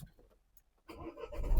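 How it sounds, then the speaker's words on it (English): A Renault Trafic van with a DPF and oil dilution fault starts up: after a quiet moment, the engine catches and settles into a rising, rough idle, close and growing louder. "I'm going to start the car."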